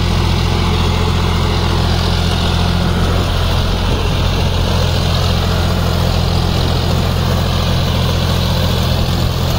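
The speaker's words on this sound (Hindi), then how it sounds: "1700 RPM গাড়ি চলছে, লোয়ে 2 নম্বরে গাড়ি চলছে" John Deere 5050D 4WD tractor running at 1700 RPM in low second gear with a 72-blade rotavator, a loud steady engine drone with a low rumbling throb, close and continuous.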